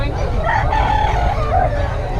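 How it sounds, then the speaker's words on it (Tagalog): A rooster crows amid the busy chicken market at Bocaue, its drawn-out call rising over steady crowd noise and nearby chatter. "Ang manok."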